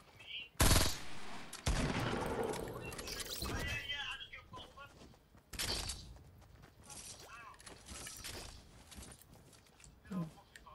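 Fortnite gunfire cracks out in several sharp bursts, one loud near shot followed by rattling volleys and scattered fainter shots over about ten seconds.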